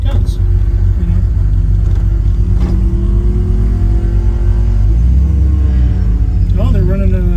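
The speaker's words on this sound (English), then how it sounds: "Oh, they're running El Camino on the dyno." A Chevrolet Malibu engine roaring on a dyno at a drag raceway, a loud sustained low rumble with rising revs, people talking nearby.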